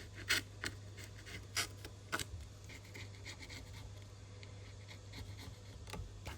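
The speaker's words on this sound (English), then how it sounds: "I'm going to get a little number 17 X-Acto blade, and yeah, we just chop them little bits off, just scrape them" A number 17 X-Acto blade scraping leftover bits off a Google Pixel 8 Pro during a battery replacement, heard as faint, close scratching with several sharp, brief scrapes over a low hum.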